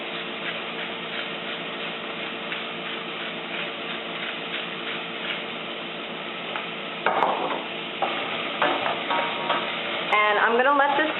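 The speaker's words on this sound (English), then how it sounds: "I'm going to let this saute on medium heat until the onions are nice and wilted and golden" Onions and potatoes sautéing in a pot on medium heat for a creamy asparagus and potato soup, a steady sizzle with occasional stirring clatter and scraping toward the end.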